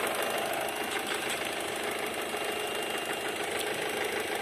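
An Opel Z16X car engine runs rough, a continuous close mechanical clatter with fast irregular knocking over a steady hum, heard alone without talk.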